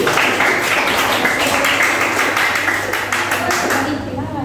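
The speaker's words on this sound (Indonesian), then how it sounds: "Ya, tepuk tangan dulu." A room of people, including children, giving a round of applause at a teacher training session, with dense steady clapping that fades out near the end.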